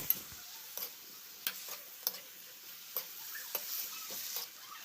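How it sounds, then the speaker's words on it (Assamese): Broad beans cook with soft tomatoes in a pan, a quiet background sizzle broken by regular clicks of a spoon scraping and stirring, roughly once a second. "বিলাহীখিনি ছফ্ট হোৱাৰ লগে লগে উৰহীখিনিও দি দিলোঁ"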